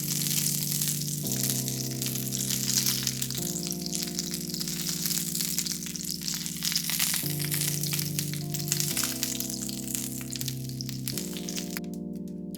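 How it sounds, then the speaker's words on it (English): Mushrooms fry in oil left in a pan from browning chicken for an udon stir fry, giving a steady bright sizzle that runs continuously over a low tonal hum from the stove. "first we're going to add in our mushrooms and then cook these down until they're nice and golden brown"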